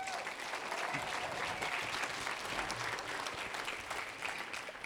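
An audience claps steadily at a graduation ceremony honoring a retiring school principal, dense sustained applause filling the whole stretch at even loudness, with faint voices mixed in.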